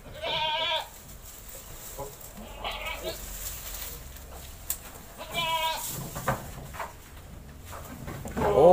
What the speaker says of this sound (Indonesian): Oh, kae men to wedhus e.